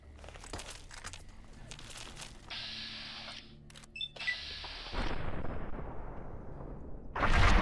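Anti-materiel sniper rifle fired in Fallout New Vegas (Tale of Two Wastelands), heavy booming reports among crunching gunfire and mechanical clatter, louder blasts near the end.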